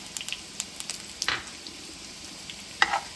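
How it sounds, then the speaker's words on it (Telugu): Curry leaves dry roasting in a new ceramic pan, giving faint scattered crackles and light pops over a low steady background, with a few sharper snaps near the end. "కరివేపాకు కూడా మనం డ్రై రోస్ట్ చేసుకుంటాం"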